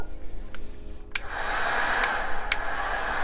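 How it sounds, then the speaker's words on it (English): A heat gun switched on low starts with a click and then blows a steady, airy hiss, with a few sharp clicks and taps over the continuous roar. "we'll go ahead and get our heat gun out here"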